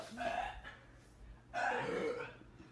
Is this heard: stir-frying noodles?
no